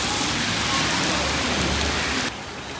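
Heavy rain pours outdoors in Mumbai, a dense, loud, steady hiss of rainfall that drops suddenly in level near the end.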